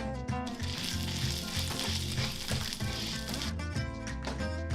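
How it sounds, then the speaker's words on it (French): Anise and coriander seeds dry-roasting in a dry frying pan for shawarma spices, a loud steady sizzle and crackle with stirring scrapes, close up and continuous, no talking. "Nous faisons revenir dans une poêle sèche de l'anis et de la coriandre"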